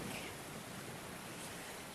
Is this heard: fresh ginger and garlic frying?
no